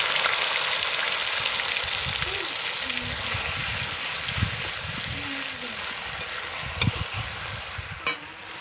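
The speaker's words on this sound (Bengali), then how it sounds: "পেঁয়াজ বাটাটাকে হালকা একটু ভেজে নেব যাতে পেঁয়াজের কাঁচা গন্ধটা চলে যায়" Onion paste frying in mustard oil with cardamom, cloves and black cumin for a tangra fish curry, a steady hiss and sizzle with occasional stirring scrapes and soft clinks, close and continuous.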